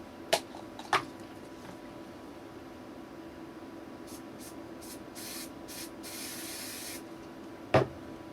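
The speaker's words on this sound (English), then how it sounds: "I'm going to spray the end there with some hairspray and just wet the surface." Hairspray from an aerosol can misted onto the end of an HO scale model hopper car: a few short hissing spray bursts close by, with sharp clicks before and after, in a quiet room.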